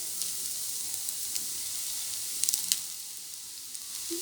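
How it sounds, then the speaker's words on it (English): Rice tossed into a frying pan with egg for egg fried rice sizzles in a quiet, steady hiss, with a few faint scraping clicks of stirring scattered through. "Now I am going to add rice."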